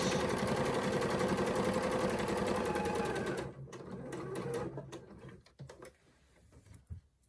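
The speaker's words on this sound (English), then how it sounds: "the first thing I want to do is baste around the edge" A sewing machine runs a basting stitch along the edge of fabric, a fast, steady whirring buzz at close range for about three and a half seconds. It then stops, leaving softer handling clicks and rustles.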